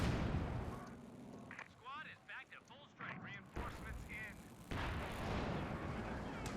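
Sherman tank cannon fire in Company of Heroes 2, a 1v1 match between Wehrmacht and US Forces, with booming shots and battle noise under continuous commentary; a quieter stretch midway before the din returns.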